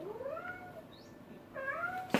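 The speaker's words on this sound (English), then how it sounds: "Cat being loud." An indoor cat meows loudly twice, two rising, drawn-out calls separated by a short pause, near and clear, followed by a sharp bump.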